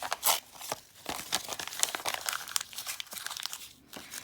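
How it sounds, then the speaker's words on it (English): Junk mail paper is crunched by hand into an egg shape, giving close, continuous crinkling and crackling with sharp bursts of crumpling and brief tearing, and no talk. "you're going to take some of this junk mail and you're going to crunch it up like so"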